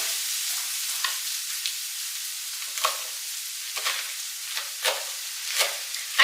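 Onions frying in a pan give a steady high sizzle, broken by a series of short scraping stirs at irregular intervals, fairly close and with no talk.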